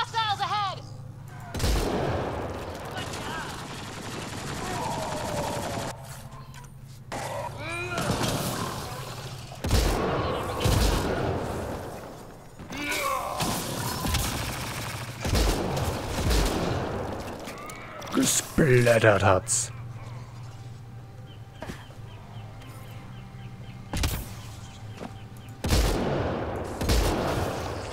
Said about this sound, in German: Ich ignoriere euer Geballer jetzt mal.